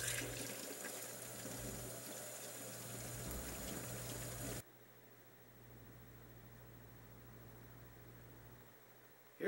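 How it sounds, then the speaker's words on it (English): Hot water runs steadily from a sink tap to rinse flux off a small gold bead recovered from CPUs, a continuous hissing flow that cuts off abruptly midway, leaving only a faint background wash. "I'll just flush this out with some hot water."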